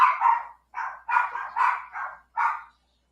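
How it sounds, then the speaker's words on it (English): A dog barks and yips in a quick series of about six short, moderately loud bursts with brief pauses between them, heard alone without any talking. "Can you hear that doggy?"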